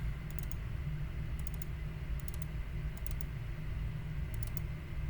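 Mouse clicks on a computer while planning a UgCS LiDAR drone mission, coming in brief paired and triple bursts over steady low hum, close and fairly quiet, with no talking.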